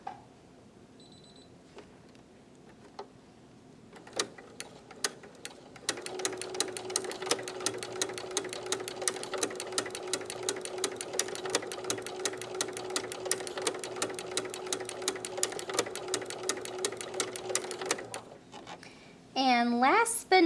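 A sewing machine with a ruffler foot stitches cotton, running in a fast, even mechanical rattle for about twelve seconds after a few scattered clicks and taps. It stops, followed by brief handling sounds near the end.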